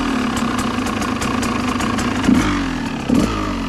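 A KTM 200 EXC two-stroke dirt bike idles low and steady close by, its uneven burble running continuously with a couple of brief throttle blips near the end.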